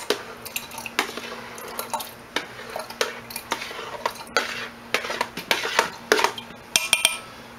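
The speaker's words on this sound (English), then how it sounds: "So next we just add our kefir grains to it." Water kefir grains being added to a large bowl in a home kitchen, a run of light clinks, taps and wet scraping from a utensil against the dish, close and irregular, with no talk.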